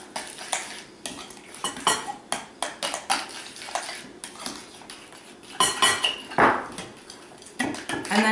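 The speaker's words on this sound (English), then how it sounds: "let's go ahead and give this a little mix" Chicken salad being mixed in a bowl, utensils clinking and scraping against the sides in irregular stirring strokes, close and moderately loud, with no talking.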